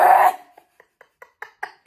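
A voice imitates a man's cough: one loud, harsh burst up front, followed by a run of short, faint, clicky bursts trailing off, close and alone.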